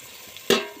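Tomatoes and salt drop into a pan of frying onions, setting off a sudden loud burst of sizzling that settles into a steady hiss after a quiet background crackle.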